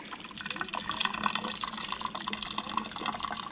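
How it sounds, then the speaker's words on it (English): Tea poured into a teapot in a home kitchen while making sweet tea, a steady close trickle and splash of liquid with a few faint drips, continuous and fairly quiet with no talk. "So you just pour in your tea."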